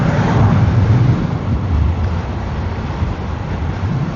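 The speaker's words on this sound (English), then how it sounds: "have a whole lot of wind gushing in" Wind rushes steadily into a motorcycle helmet while riding an 80 volt electric motorcycle on a hot day, a constant low buffeting roar close to the ears with no talking.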